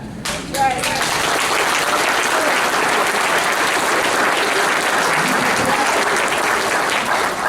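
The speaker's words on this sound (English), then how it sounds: "You can clap if you like" Audience applauding during a political talk-radio event, a dense sustained wash of clapping filling the room from start to finish, with voices faintly mixed underneath.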